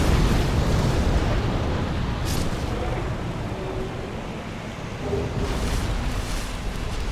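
Fire Tempest pyromancy in Dark Souls, a roaring eruption of fire pillars that starts loud and rumbles on in a sustained, crackling wash, with a few sharper bursts near the start and toward the end.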